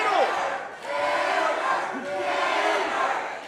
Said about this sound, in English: The crowd chants on hammer.